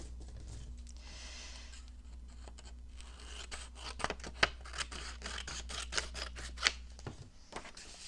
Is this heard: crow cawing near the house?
no